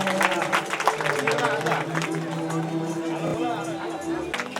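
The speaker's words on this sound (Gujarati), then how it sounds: "જોરદાર તાળીઓના ગડગડાટથી આપણે વધાવીએ।" Thunderous applause at a religious katha gathering welcoming a guest, with dense sustained clapping from a crowd mixed with an amplified voice speaking over it.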